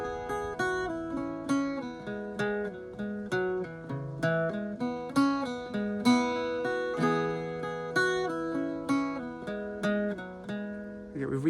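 An Irish bouzouki plays the A section of the Shaskeen Jig, with bright plucked notes in a steady, lilting jig rhythm, close and clear, with no talking.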